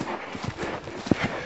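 Lenny the horse's hooves strike the ground during a riding workout, a run of soft, muffled clip-clops at an uneven rhythm, fairly close, over faint background noise.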